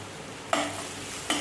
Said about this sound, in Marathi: हे बघा मी छान कांदा इथं परतवत आहे